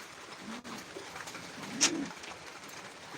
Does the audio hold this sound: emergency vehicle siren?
no